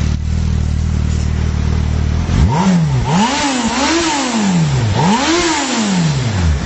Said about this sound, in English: There's no doubt it's an impressive sounding bike.